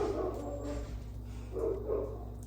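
Dogs barking on a farm, several irregular woofs rising at moments over a steady low rumble, moderately distant and outdoors.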